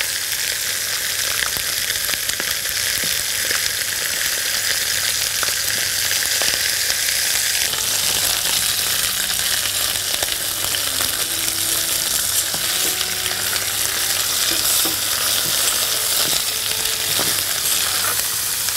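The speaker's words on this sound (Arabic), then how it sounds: "متهيألي هحتاج طاسة عشان احمر الرقبة كويس الاول" Lamb neck browns in a frying pan for a slow-cooked dish, giving a steady, close sizzle that runs throughout with light clinks and scraping in the pan.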